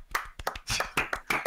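A short burst of hand clapping during a casual podcast, several sharp claps in an uneven rhythm, fairly faint and close, with no one talking.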